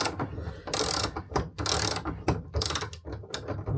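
A stuck nut being worked loose against a metal rail frame, a run of close, uneven ratcheting clicks and grinding metal scrapes in irregular bursts.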